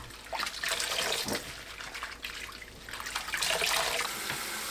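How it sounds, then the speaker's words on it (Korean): Torn pumpkin leaves are rinsed by hand in clean water, a close, steady splashing and trickling that swells and eases over a few seconds, with no voices. "깨끗한 물에 한 번 더 헹구고 체에 받쳐둡니다"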